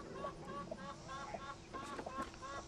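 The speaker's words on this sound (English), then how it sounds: "we got about 60 laying hens in here" Laying hens, about sixty of them, in a henhouse on a small farm, clucking softly and repeatedly in short overlapping calls, faint and close.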